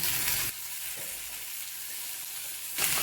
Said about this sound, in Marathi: त्यामध्ये आपण टमाटर टाकून घेणार आहे.